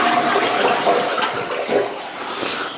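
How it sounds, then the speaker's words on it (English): A toilet flushes close by, a loud rushing swirl of water draining from the bowl that gurgles and tapers toward the end. "That's flush number 1."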